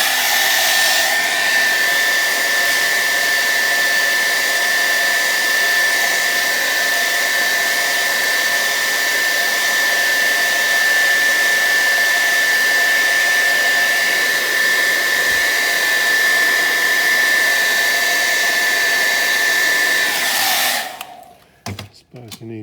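A hairdryer blows steadily and loudly at close range while heating old window tint film on a car window, a continuous airy whine with a high tonal edge, cutting off near the end.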